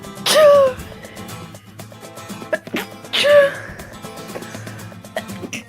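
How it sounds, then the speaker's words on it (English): Two loud, close sneezes from one person, about three seconds apart, each a sharp burst followed by a short voiced tail, with quieter breathing and small noises between. "I sneeze so much."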